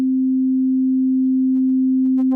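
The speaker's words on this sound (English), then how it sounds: "you can understand that it's my sync pitch, which is modulated by the LFO" Yamaha Montage M / MODX M synthesizer tone with its sync pitch modulated by an LFO: a steady, loud sustained note that grows brighter with a rapid pulsing, buzzy edge toward the end, heard alone.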